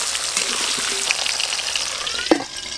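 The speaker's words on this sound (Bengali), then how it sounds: "ভাজার তেলে আলুগুলো আমি লাল লাল করে ভেজে নেব।" Potato pieces rubbed with salt and turmeric fry in hot oil, giving a steady, close crackling sizzle with scattered pops and a faint stirring clink near the end.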